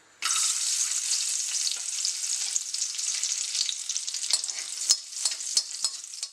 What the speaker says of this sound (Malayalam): ഇനി ഇതിലേക്ക് നമുക്ക് അണ്ടിപ്പരിപ്പ് മുന്തിരി ഒന്ന് ആദ്യം തന്നെ വറുത്തെടുക്കാം